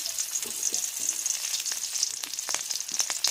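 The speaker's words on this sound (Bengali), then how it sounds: "মাছ ভাজা তেলের মধ্যেই আমি একটা কাঁচা লঙ্কাকে কেটে দিয়ে দিলাম" Sliced green chili hissing and sputtering in hot oil already used for frying fish, a steady close sizzle with scattered sharp pops and crackles throughout, no voices.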